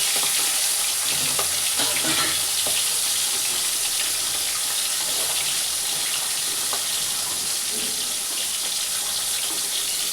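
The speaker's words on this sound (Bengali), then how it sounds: "তেলটা গরম হয়ে গেছে বন্ধুরা, পমফ্রেট মাছটা একটু আমি ছেড়ে দিলাম।" Pomfret fish sizzling in hot oil in a pan, a continuous loud crackling hiss with spattering pops, steady throughout without talk.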